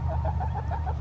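Chickens inside a mobile electric fence on a homestead give a quick run of soft, rhythmic clucks over a low steady hum, close and moderately loud.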